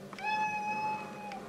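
A house cat gives a single clear, drawn-out meow close by in a kitchen, steady and tonal for about a second, with no talking.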